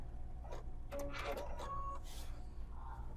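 A sewing machine fitted with a new presser foot stitches up and over a fabric seam in short whirring bursts over a steady low hum, close by, with faint talk around it.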